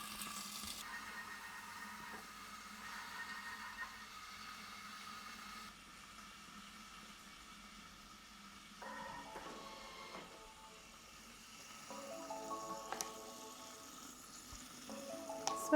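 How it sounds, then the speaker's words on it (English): Onions cook inside a Thermomix TM6 for beef stroganoff, giving a faint, steady sizzle with a low machine hum beneath, pausing and resuming as the blades stop and start. "you get this sizzling sound, and the blades also stop turning in between"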